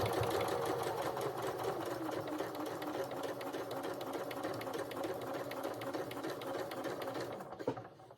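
Sewing machine edge stitching a seam allowance to a skirt side, a fast, even mechanical whir of needle strokes running steadily close up before stopping near the end.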